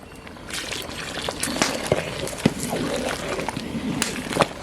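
Tamarind water poured into a pot of sambar during cooking, a steady liquid trickle and splash running throughout, with talk over it.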